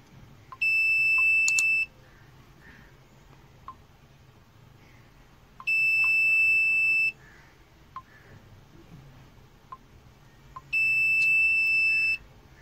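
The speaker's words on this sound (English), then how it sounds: "So if the driver looks down or looks up for more than 2 seconds, a buzzer is activated, which alerts the driver." An Arduino buzzer in a driver drowsiness detection system gives three loud, steady electronic beeps, each lasting just over a second, spaced about five seconds apart over quiet background.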